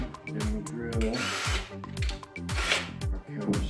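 A power drill bores countersink holes into the wooden frame members of a Glen L Sherwood Queen boat under construction, with short repeated whirring bursts and ratcheting clicks close by, and some talk mixed in.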